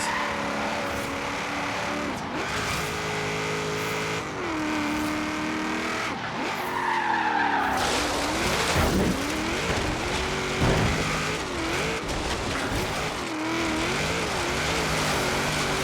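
A car drifts in Forza Horizon 3, its engine revving hard and shifting pitch while the tires squeal and skid in long sliding stretches, loud and continuous throughout.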